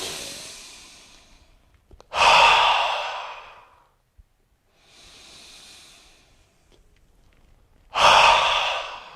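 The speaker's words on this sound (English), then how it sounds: "I'm getting a little bit more vigorous here with my nose breathing as well." Vigorous nose breathing during a morning qi gong wake-up exercise: two loud, sharp snorting exhales stand out, with softer drawn-in breaths between them and short silent pauses, close and alone with no talk.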